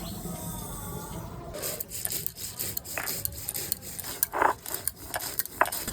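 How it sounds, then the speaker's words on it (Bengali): White poppy seeds ground by hand make a steady, gritty rubbing and scraping that starts after a quiet second and runs in uneven back-and-forth strokes, close and moderately loud. "আমি সাদা শস্যটা একটু বেটে নিচ্ছি"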